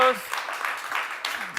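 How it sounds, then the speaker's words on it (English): A voice briefly speaks, then an audience at a sustainability forum breaks into scattered applause that carries on steadily. "Your applause to Saulius."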